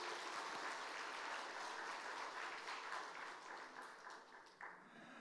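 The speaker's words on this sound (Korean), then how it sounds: "우리 다시 한번 수고해 주신 삼남전도회 박수 한번 주시기 바랍니다" A church congregation claps during a Sunday afternoon service, a dense wash of applause that slowly thins and fades toward the end.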